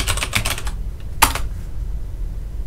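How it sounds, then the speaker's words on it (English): Rapid clacking keystrokes on a computer keyboard come in two bursts, a quick run followed by a short cluster, close and clear with a soft room hum underneath. "I'm just going to type google.com"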